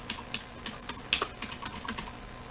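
Short burst of light keystrokes on a computer keyboard, several quick taps with small gaps, close but quiet, no talking.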